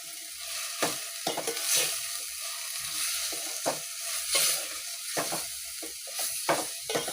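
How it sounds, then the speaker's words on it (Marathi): Onion-garlic masala sautéed over low heat for misal, a continuous frying sizzle broken by repeated spoon-scraping stirs against the pan, close and steady with no voices. "तो सुद्धा मी छान परतून घेणार आहे"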